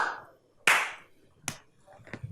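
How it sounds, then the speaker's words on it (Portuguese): A few soft, isolated finger claps made with only the fingers against the palm during a music lesson, three or four separate quiet hits with gaps between them. "E no último você usa apenas os dedos,"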